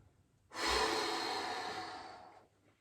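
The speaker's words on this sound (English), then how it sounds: "I'm breathing all my air out, pulling my stomach in." A long, deep exhale through the mouth, one steady airy breath starting abruptly and fading out over about two seconds, close and alone, during a stomach-pulling breathing exercise.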